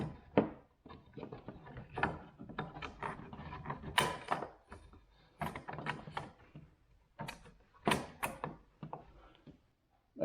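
Roof rack crossbar clamp being tightened onto a 2024 Ford Bronco Sport, heard as a series of close, quiet mechanical clicks and ratcheting knocks in irregular bursts, with no talking.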